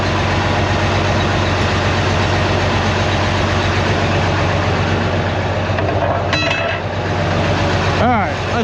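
Caterpillar 983 track loader engine idling loudly and steadily up close, a dense continuous rumble with a brief squeal and clank of moving parts near the end.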